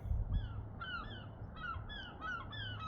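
A crow caws among seagulls harassing a bald eagle outdoors, giving a series of short, repeated calls at moderate distance, faint over a steady low rumble.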